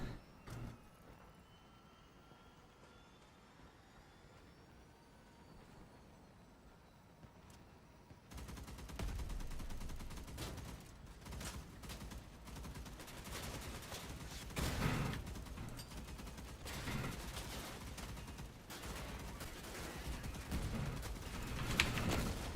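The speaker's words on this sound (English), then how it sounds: "even though I'm, like, unloading into this guy, look how many shots that took" Rapid, repeated gunfire aimed at an enemy in a video game, starting after a quiet stretch. The shots come as dense clustered bursts at moderate, fairly subdued loudness.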